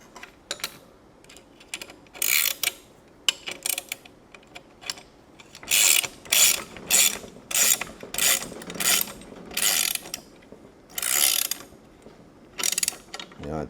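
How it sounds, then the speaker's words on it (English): A hand ratchet tightening the locking nut on a 2X72 grinder platen, fast bursts of sharp metallic clicking in irregular runs with short pauses between them, close and clear. "Grab your ratchet."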